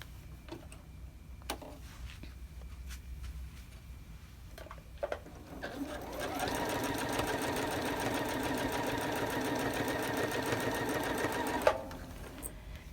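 A sewing machine chain-pieces wonky star quilt blocks. A few soft clicks and fabric handling come first, then the needle starts a fast, steady mechanical whirring run of about six seconds and stops with a click.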